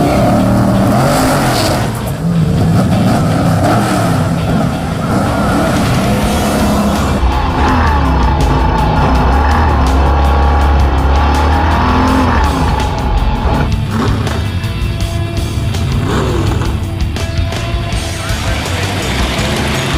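El Camino car launching hard at a drag strip, a loud, close engine roar with squealing, skidding tires that builds and holds across the run, with no talk over it.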